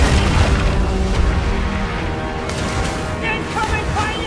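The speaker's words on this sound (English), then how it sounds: "Incoming fire!" Cannon fire between pirate ships in a video game, a dense barrage of heavy booms over the sea, loud and continuous, with faint voices in the mix.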